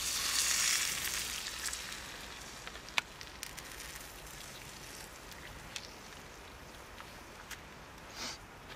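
Sea beet leaves frying in a mixture of fat and water, giving a faint, continuous sizzle with scattered small pops and crackles, close and alone.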